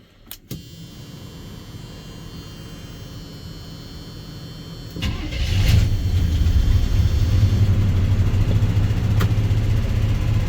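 A square body truck engine, freshly tuned up, sits quiet with a low hum and a couple of clicks, then fires around the midpoint and settles into a steady, rumbling idle close by.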